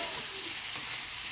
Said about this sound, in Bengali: ডালটা দিয়ে খুব ভালো করে ভাজতে হবে।